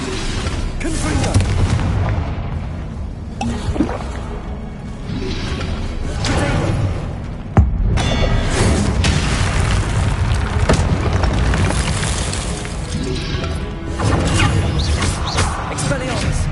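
Repeated Confringo blasting-spell explosions in a Harry Potter video game, loud booming bursts over a dense continuous din, with one sharp crack standing out among the rolling blasts.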